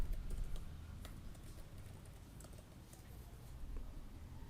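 Quiet, soft typing on a computer keyboard patters along unevenly against a low background hum for a few seconds.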